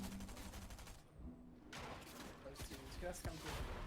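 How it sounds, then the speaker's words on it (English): Gunfire rattles from height in a Fortnite solo cash cup match, steady bursts of shots under commentary talk, with a brief lull near the middle before the shooting resumes. "Now he's getting shot at from height"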